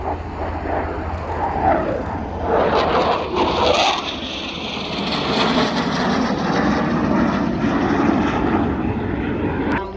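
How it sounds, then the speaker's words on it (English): A Eurofighter Typhoon jet roars loudly at an airshow flying display, a broad, sustained rumbling thrust that swells and shifts in tone as the aircraft passes inverted. "the Typhoon returns to the center stage, this time upside down"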